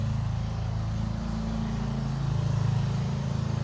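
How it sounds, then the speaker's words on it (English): Lawnmowers run in the backyard next door, a steady low engine drone with a rough, pulsing rumble that holds at an even, fairly close level throughout without any voices. "Can't get away from the lawnmowers. They moved into the backyard right next to me."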